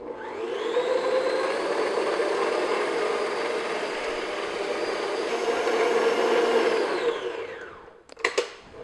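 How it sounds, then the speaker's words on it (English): An electric mixer at medium-high speed beats coconut cupcake frosting in a bowl, a loud, steady whirring drone that holds for about eight seconds and then winds down, with a few clatters at the end and no talking. "what I'm going to do is just beat this for a couple minutes, 2-3 minutes, just until it's nice and light and fluffy"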